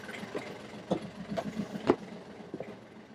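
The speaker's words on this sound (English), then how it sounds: "That was a cold start from not being started for 2 weeks. This is at idle." A Freedom 40/40 sailboat's marine engine idles shortly after a cold start following two weeks unused, giving a low, steady mid-pitched rumble with a few irregular knocks and clatters, moderately close and alone.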